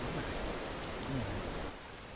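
Rain falls steadily in the video game Tales of Berseria, a dense, even hiss of drops on surfaces with no break, quieting slightly toward the end.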